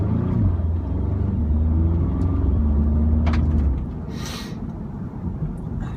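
A 2015 Audi S3 in dynamic mode pulls away from a stop in manual on a slightly slick road, its engine a loud steady rumble that builds for a few seconds before easing off into quieter road noise.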